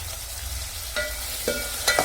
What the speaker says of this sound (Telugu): ఇప్పుడైతే ఉల్లిగడ్డలు వేసినాం.